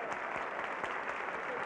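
Dense, steady applause from a music awards ceremony audience greeting a performer, close and continuous throughout the short stretch.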